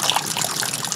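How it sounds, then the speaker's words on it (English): Hot water pouring into an RV gray tank, a steady gushing, splashing flow that stays loud and unbroken for the whole moment, with no voices. "In the other gray tank, I'm going to put hot water and an entire container of baking soda"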